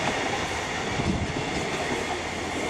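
TransPennine Express train passing through York station as a loud, continuous rumble with steady wheel and rail noise close by, no voices.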